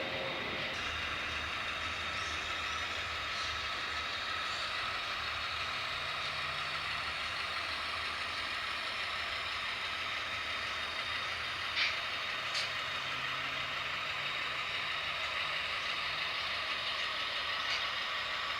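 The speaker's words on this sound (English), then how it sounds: "Now work train is going back into the tunnel there" A steady hum and rumble of a small model train running continuously on track, with a few faint clicks, no voices.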